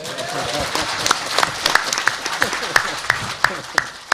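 An audience at a forum in the Korean National Assembly claps along, with a few sharp, rhythmic claps standing out while a voice speaks over it.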